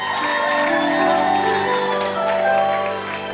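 A church congregation applauding and cheering for Jesus during a sermon, dense clapping and crowd voices with sustained tones of music underneath, loud and continuous throughout.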